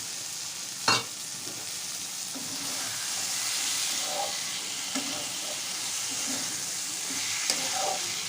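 Peas sizzle and fry in a kadai for aloo matar, a steady continuous hiss with occasional sharp clinks of a utensil stirring, no talking.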